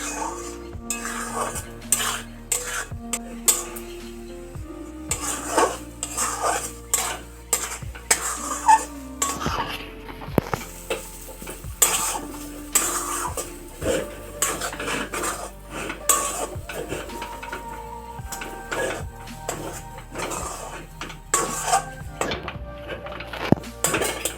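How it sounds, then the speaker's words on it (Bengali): Semolina cooking in milk is stirred steadily in a pan, with a spoon repeatedly scraping and clinking against the metal in an irregular rhythm, close and clear, with no talking. "ভালো করে নেড়ে নিতে হবে যাতে সুজিটা দলা না হয়ে যায়।"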